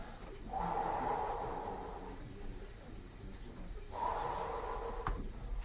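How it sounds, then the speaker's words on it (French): Comedian on a club stage demonstrating deep belly breathing: two long, audible breaths into the microphone, each a drawn-out inhale and exhale, with no talk over them. "tu fais la respiration du ventre, comme ça, là."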